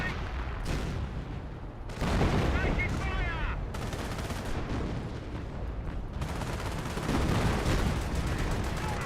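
Gunfire and artillery in the Company of Heroes strategy game, with dense rattling machine-gun fire and heavy booms rolling continuously and loudly, while a voice talks faintly underneath.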